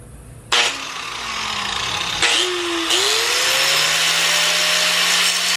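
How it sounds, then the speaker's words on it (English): An angle grinder fitted with a grinding blade is used in a camper van conversion, whining up loudly in several bursts with shifting pitch and a rough grinding edge, close by and without talk. "I have a blade that's for cutting. This is just for grinding, but I'm gonna just try and use it right now."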